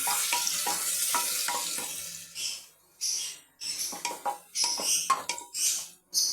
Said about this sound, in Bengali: তেলটাও আমার গরম হয়ে গিয়েছে এর মধ্যে লঙ্কা পেঁয়াজ দিয়ে দিলাম